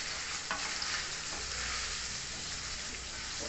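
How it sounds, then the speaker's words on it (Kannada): Paneer cubes fry in hot oil in a pan, giving a steady, dense sizzle that holds evenly throughout, with a few faint stirring clicks and no voices. "ಈಗ ಎಣ್ಣೆ ಬಿಸಿಯಾಗಿದೆ, ನಾನು ಪನ್ನೀರ್ ಹಾಕ್ತೀನಿ. ಪನ್ನೀರ್ ಸ್ವಲ್ಪ ಫ್ರೈ ಮಾಡ್ಕೊಳ್ತೀನಿ."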